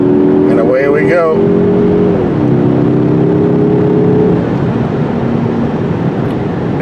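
A 2021 Mazda 3 Turbo sedan's engine hums smoothly while driving on winding backcountry roads, a steady low drone with pitch shifting as speed changes, plus tire and road rumble; a brief voice-like burst sits near the start.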